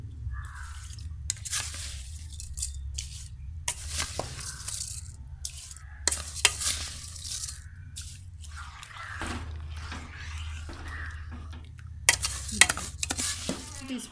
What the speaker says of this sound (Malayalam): വെള്ളം തിളച്ച് ഇതിലേക്ക് നമ്മൾ അരിയണം.